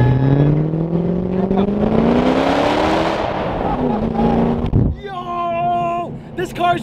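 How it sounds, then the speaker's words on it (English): A Ford GT MK1 with a full Fi catless Valvetronic exhaust system revs hard and loud, its pitch climbing through a long pull, dropping, then surging again with sharp rasping bursts, close and dominant. "I don't think I've ever seen a bigger difference between a stock Ford GT and a Ford GT with an Fi exhaust."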